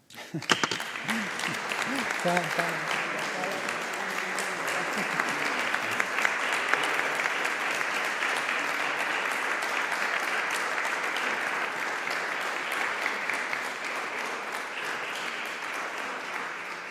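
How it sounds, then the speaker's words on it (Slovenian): Sustained applause from a lecture audience, starting abruptly and holding steady for the whole stretch, with a few voices heard briefly near the start. "mu lahko za god zaploskamo"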